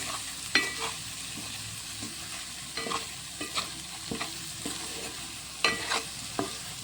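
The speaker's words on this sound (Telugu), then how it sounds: "ఇట్లా మంచిగా నిదానంగా కలుపుకోవాలి." A spoon slowly stirs an onion, garlic and chilli masala for eggs in a hot pan, with soft frying sizzle under intermittent scrapes and knocks against the pan.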